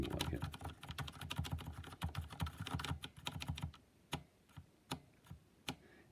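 Mechanical keystrokes from a Filco Majestouch 2 TKL keyboard with Cherry MX Silent Red switches, a close, quick run of muted clacks for about three and a half seconds, then a few slower scattered presses.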